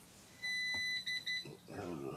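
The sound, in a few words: smoke alarm beeping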